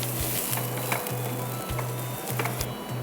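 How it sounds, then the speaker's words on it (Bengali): Onions frying in a pan while a Bengali fish and pea curry is cooked, giving a steady close sizzle with soft regular stirring knocks throughout. "এখন আমি এখানে পেঁয়াজ দিয়ে দিচ্ছি। পেঁয়াজটা একটু লাল হওয়া পর্যন্ত আমরা একটু ভেজে নিব।"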